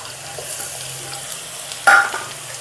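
Soaked, boiled chana dal frying with onions in a pan, a steady low sizzle with a sharp clatter near the end as the pan or spatula is struck.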